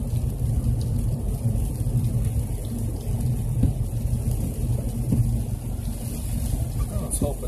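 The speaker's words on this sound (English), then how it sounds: "since we're in this rainstorm" Steady heavy rain pours down during a mountain rainstorm at around 6,000 feet, a dense constant roar with low rumbling thunder beneath it, loud and unbroken throughout.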